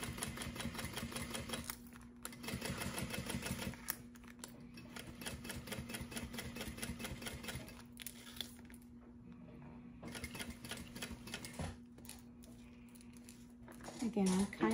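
A sewing machine backstitches a crossbody bag on stitch setting 5, its motor whirring in steady runs of rapid needle clatter that stop and start in short pauses, with a louder burst at the end.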